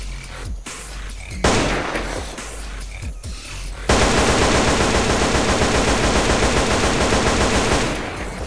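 Gunfire from a modded wooden-stocked weapon in GTA San Andreas: a few scattered single shots, then sustained rapid automatic bursts, loud and close, with no talking.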